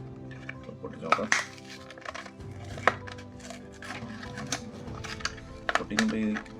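A Hot Wheels diecast car's packaging is torn open by hand close up, giving sharp plastic crackles and snaps in a few bursts, with people talking throughout.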